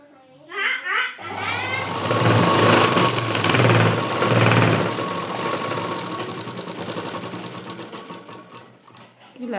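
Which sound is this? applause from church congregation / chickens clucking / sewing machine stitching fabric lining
sewing machine stitching fabric lining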